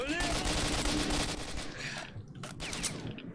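Rapid gunfire crackles in the video game S.T.A.L.K.E.R.: Shadow of Chernobyl, with dense bursts of shots, sharp cracks and a few isolated reports in a noisy, loud mix.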